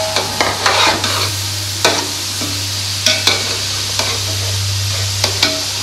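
Chopped tomatoes and green chillies frying in a pan, a loud steady sizzle punctuated by repeated sharp spatula scrapes and clacks at irregular intervals, over a low hum.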